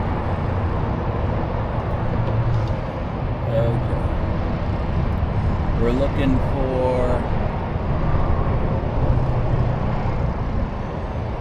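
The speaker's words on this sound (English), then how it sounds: "I'm near traffic and it's so loud" Loud, steady roadside traffic rumble fills the background near a busy road, continuing as a person speaks briefly over it.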